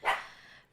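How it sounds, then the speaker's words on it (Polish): Pet dogs playing indoors let out a single sharp bark that trails off quickly, close and fairly loud with no talk over it. "przepraszam za moje psy, które właśnie postanowiły się bawić"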